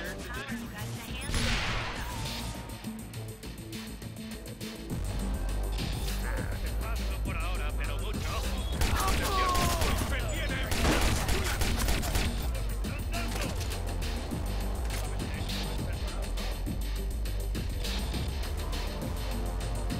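Sniper rifle fire in the Watch Dogs video game: sharp gunshots and dense bursts ring out over a loud, continuous game soundscape with rumbling low end, a louder stretch beginning midway.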